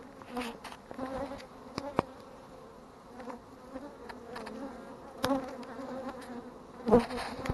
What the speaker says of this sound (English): So here's the bees where they're coming in and out.